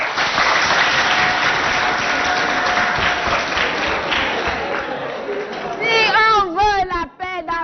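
Audience applause at a school poetry event in Abéché, Chad, filling the clip as a dense, steady crowd clapping with voices mixed in, then breaking into tonal chirping cries near the end.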